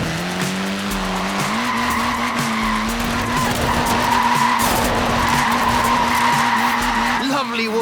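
Tires squeal and skid continuously as a short-wheelbase, front-wheel-drive Mini is slid in Forza Horizon 4, loud and close over a steady engine drone, with the screech wavering through the slide.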